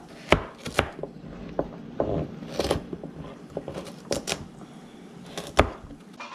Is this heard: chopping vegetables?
yes